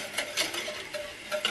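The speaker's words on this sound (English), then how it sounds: "I'm just going to keep stirring this" A whisk stirs homemade egg custard in a pan back on the heat, giving soft, steady scraping and swishing strokes in a repeating rhythm, close and fairly quiet, with no talking.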